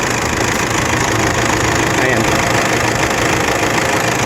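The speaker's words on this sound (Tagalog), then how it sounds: "napakaswabe ng andar po ng makina neto" A 2015 Toyota Fortuner Black Series with manual transmission and low mileage idles with a steady, even engine hum throughout, close by, while someone talks over it.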